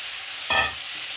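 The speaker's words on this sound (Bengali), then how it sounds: "তো এটাকে এখন আমি একটা ভাজতে থাকবো মিডিয়াম আছে এটাকে একটু ভালো করে ভেজে নেব" Cauliflower, potato and peas frying in a pan with turmeric, giving one brief close sizzle and stir as the pieces are tossed, faint hiss before and after.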